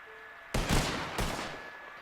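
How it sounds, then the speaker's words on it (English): A rifle in a video game firing a pair of loud, close shots about half a second apart, each with a sharp crack and a short rolling tail, against a faint quiet background. "you cocked your rifle, you fired twice, and you reloaded"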